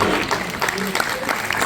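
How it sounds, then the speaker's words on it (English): An audience claps for director Kiyoshi Kurosawa at a BeyondFest 2024 film Q&A, a short burst of crowd applause under a speaking voice. "Please keep that round of applause going for director Kiyoshi Kurosawa."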